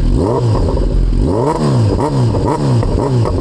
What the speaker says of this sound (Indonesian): Mungkin kita geber-geber dulu ya